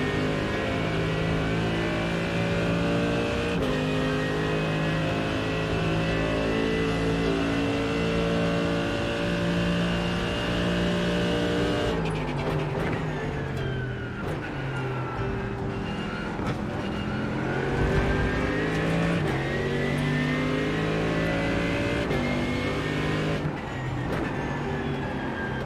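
Race car engines from the IMSA GTE class at Monza in iRacing, a simulated race, roar continuously at high revs, with gear shifts and a BMW running close behind; no talk is heard.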